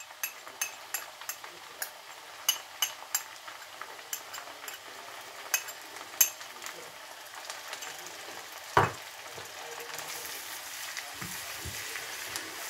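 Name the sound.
ginger and garlic frying in a pan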